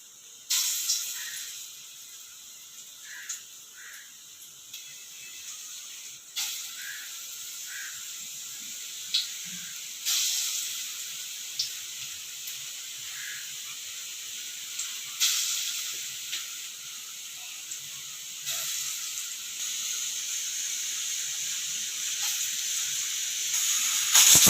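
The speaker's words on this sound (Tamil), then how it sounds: "ஒரு சைடு பார்த்தீங்கன்னா கோஸ் கூட்டுக்கு விசில் வந்துட்டுருக்கு." A pressure cooker whistle releases a steady high hiss of steam continuously while cabbage cooks, with small clicks and knocks in the background and no voices.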